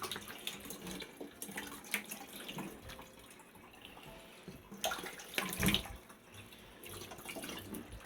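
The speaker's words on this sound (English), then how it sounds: "What I'm going to do is dump a little extra water in." Water splashes and trickles into a rock saw pan, a short close pour with a louder gush midway, then quieter dribbling.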